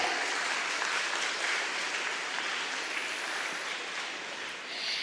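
An audience at a school investiture ceremony gives another round of applause for the outgoing school leader, a steady wash of many hands clapping that keeps the same strength and dips slightly near the end.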